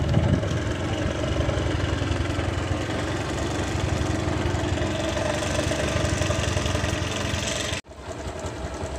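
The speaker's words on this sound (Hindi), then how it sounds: "हमारे बाइक ड्राइव कर रहे हैं" Motorbike engine while riding near a historic Jagannath temple in Behta Bujurg, Kanpur: a steady, close mid-pitched drone with a rough, knocking texture that runs throughout and briefly drops out near the end.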